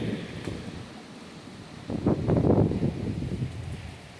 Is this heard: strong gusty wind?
yes